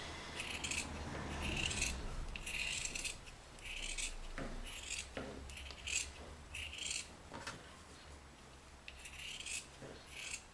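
Scissors snip freehand through felt while a snowflake shape is cut out for a craft piece, giving a steady run of close, crisp rasping cuts with short pauses between strokes.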